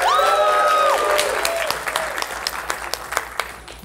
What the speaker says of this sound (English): I couldn't have expected such a gigantic round of applause.